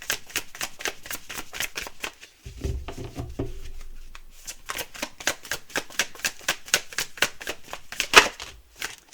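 Tarot cards shuffled by hand in quick, rhythmic riffling bursts, close and fairly quiet, with a brief lower rustle partway through and no talking.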